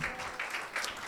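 Church congregation applauding for Jesus Christ during a Sunday sermon, a dense wash of many hands clapping continuously with a few louder surges, recorded inside the church hall.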